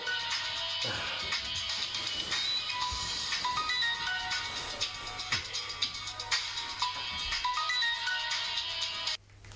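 A telephone ringtone plays continuously for about nine seconds, a bright repeating electronic melody at steady volume, alone with no talk, cutting off abruptly near the end.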